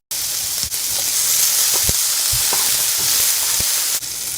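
Chopped tomatoes and onions frying in a pan for a South Indian poriyal, a steady loud sizzle with occasional stirring clicks and scrapes, no talk.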